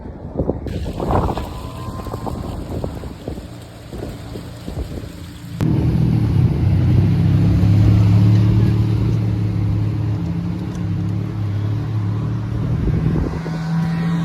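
A Porsche 996-based sports car passes on a city street in Zurich, its engine rising into a loud, steady low roar that holds for several seconds after a quieter stretch of street noise and wind.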